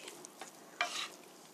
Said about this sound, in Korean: 국수니까 집게로 섞어야